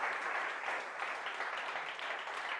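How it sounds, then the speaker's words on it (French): Sustained applause from an audience gathered at a mill estate, an even, continuous clatter of many hands heard from a short distance. "On peut applaudir encore ce document de Claude"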